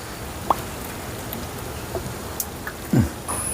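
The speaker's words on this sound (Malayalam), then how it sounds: "മഴ പെയ്ത് വന്നു തുടങ്ങിയിട്ട് കുറേ നേരമല്ലേ" Light rain falling in a village, a soft steady patter with scattered drops tapping nearby surfaces, quiet and continuous with no voices.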